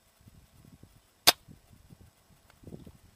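A single sharp crack from a WELL MB4403A airsoft sniper rifle shot striking its target, brief and bright amid quiet murmuring voices.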